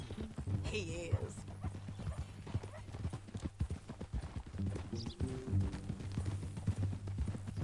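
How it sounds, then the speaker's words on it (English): Horse hooves clip-clop steadily in a Red Dead game scene, a brisk rhythmic trot close by, with a brief whinny and characters talking over the hoofbeats. "That a new horse?"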